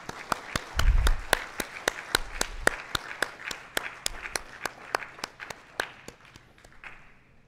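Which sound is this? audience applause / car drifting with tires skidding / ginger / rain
audience applause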